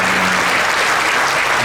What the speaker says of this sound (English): So round of applause to Mr. Richard.